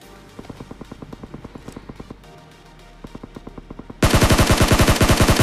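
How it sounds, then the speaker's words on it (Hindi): Rapid bursts of gunfire in PUBG Mobile ring out from a sniper tower, with steady rhythmic shots, a brief pause, then a much louder, closer and denser burst at the end. "राइट साइड से भी फायर हो रही है स्नाइपर टावर से"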